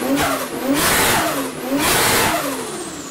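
A Nissan S14 with a swapped 1JZ engine is revved twice in quick succession, each rise and fall loud and close, with no talk over it.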